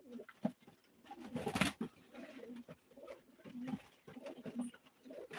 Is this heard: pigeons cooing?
yes